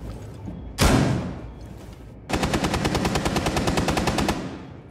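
Gunfire in a Fortnite match, starting with one loud single shot, then after a pause a sustained rapid automatic burst of evenly spaced shots lasting about two seconds, close and prominent with no talking.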